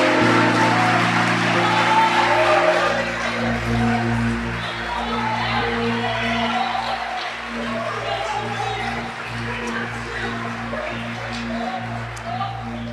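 A church congregation claps together during worship while music plays underneath and voices carry over the top, the applause slowly thinning as it goes on.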